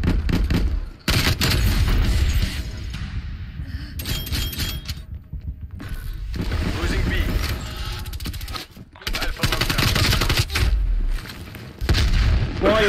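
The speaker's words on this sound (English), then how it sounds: "Throwing grenade." Grenade blasts and gunfire in Black Ops Cold War multiplayer, heavy booming explosions followed by bursts of shots and rumbling, loud and repeated with brief quiet gaps between.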